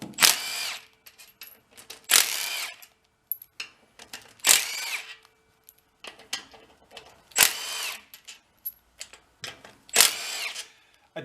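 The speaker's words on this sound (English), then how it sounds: "Let's go buzz the bolts out of the side cover." A power tool buzzes bolts out of the side cover of a lawnmower engine in about six sharp, loud whirring bursts, separated by short quiet gaps and faint handling clatter.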